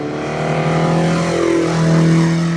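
Exhaust of a pristine 1974 Kawasaki Z1 900 motorcycle idling and revving gently close by, a steady rich drone with rising tones, continuous and loud with no talk.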